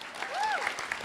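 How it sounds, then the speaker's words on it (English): Audience applause for a speaker at a 2014 Red Cross centenary summit, a brief burst of clapping from the room, steady and moderately loud, with a faint tonal sweep running through it. "Would you give her a clap?"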